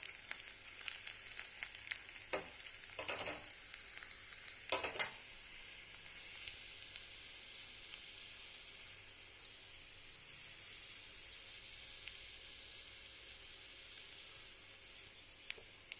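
Five or six crushed garlic cloves fry in hot oil with a steady, bright sizzle, close by. A few stirring scrapes come early, then the hiss settles into a quieter, even crackle.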